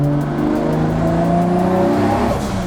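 Turbocharged Toyota Supra drift car engine revving hard and continuously, loud and close, with rising and falling engine tones and a hint of tire squeal, no talking.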